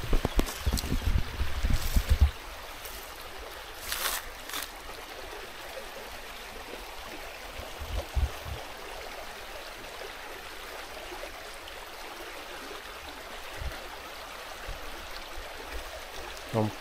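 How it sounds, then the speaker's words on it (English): River water flows and splashes as someone wades across the Nyabuhansi river in Africa, with a continuous rushing, trickling wash and a few louder splashes early on. "This time I want to go across the river from this other end."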